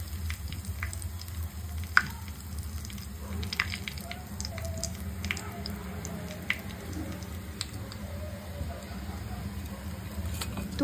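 Chicken pieces deep frying in oil, a steady hissing sizzle with scattered small pops and spatters throughout, fairly close.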